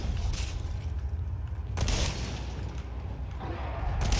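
Gunfire from the Resident Evil 4 Remake video game: a dense, continuous volley of shots and booms with a couple of sharper bursts, loud and steady throughout, no talking.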